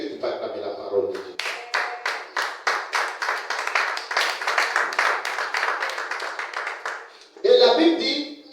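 A church congregation claps in steady unison, roughly two sharp claps per second for several seconds, fairly close, with a voice calling out over it before and after the clapping.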